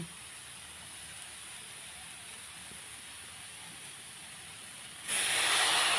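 Water splashed into a hot pan of kodai greens (saag) bursts into a loud, sudden hiss of steam near the end, after a steady faint sizzle.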